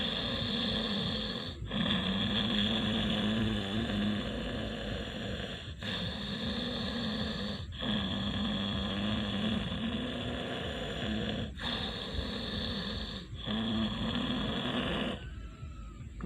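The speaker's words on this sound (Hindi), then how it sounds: "खर्राटे की आवाज़ से सांस लें और छोड़ें" Pranayama breathing done with a snoring sound, the tongue raised to the palate: long, rasping, snore-like breaths in and out, repeated about five times with short pauses between them, close and steady.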